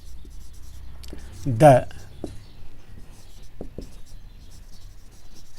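Pen strokes scratch on a writing surface during a vector calculus lecture, a brief burst of rapid writing amid faint taps and scrapes, with a lecturer speaking quietly nearby.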